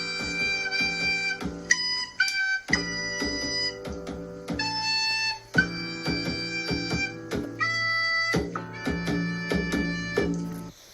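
Electric piano playing sustained chords alongside a recorder melody and hand drum, a short instrumental ensemble passage at steady volume with no talking.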